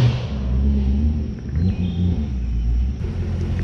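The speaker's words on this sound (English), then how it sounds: "how's that Corsa sound?" Orange C7 Chevrolet Corvette Z06 with a Corsa exhaust arriving, its deep low rumble holding steady and close with slight swells in engine note, no talk over it.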